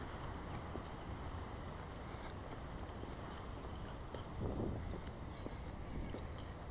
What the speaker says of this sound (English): The heavy wind. That's right. The heavy wind.